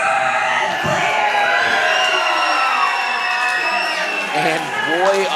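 A packed crowd at an EMERGE Wrestling event roars and cheers loudly and continuously, with whoops and shouts rising over the steady din.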